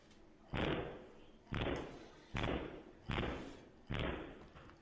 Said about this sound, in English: What we witnessing right now is Jim Jones beating on his own door